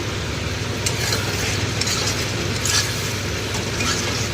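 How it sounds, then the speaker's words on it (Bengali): Raw ginger and spices fry in a pan while being stirred, a steady sizzling hiss with scattered scraping clicks of the utensil, close and continuous with no talking. "আদাটা যেহেতু কাঁচা, আদাটা একটু দিয়ে নাড়াচাড়া করবো"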